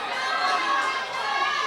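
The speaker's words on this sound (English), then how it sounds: "the crowd definitely coming to life here in the second round" A boxing crowd at a national championship bout stirs into loud, continuous cheering and shouting, a dense roar of many voices without clear breaks.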